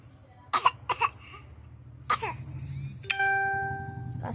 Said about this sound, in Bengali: কাশি হয়েছে তোমার?